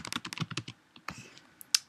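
Password typed on a Mac computer keyboard: a quick close run of soft key clicks, a brief pause, then a few scattered taps and one sharper final keystroke.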